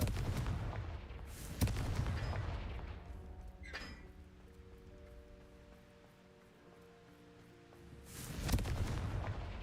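A Confringo spell fired in Hogwarts Legacy lands as a sharp booming blast, with a sustained tonal ring fading after it and a second heavy burst near the end.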